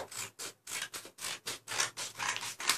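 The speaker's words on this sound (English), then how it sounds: "So we're gonna start by taking this A4 size and cutting out two strips down here." Scissors cutting strips from a sheet of A4 paper: a quick run of about ten close, crisp snipping strokes in a steady rhythm, each a short rasping burst, with no talking.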